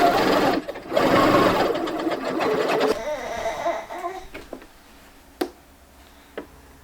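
A sewing machine runs stitches close to the edge of twill tape, about a quarter inch in, on a baby romper. A loud, steady whirring burst lasts a few seconds, then fades to quieter mechanical clicks and ticks.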